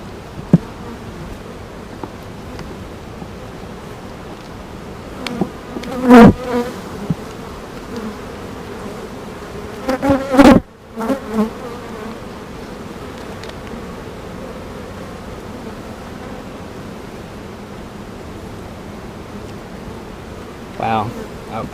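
Honeybees in an opened hive give off a dense, steady buzz throughout, with a few sharp handling knocks and rustles rising briefly above the hum.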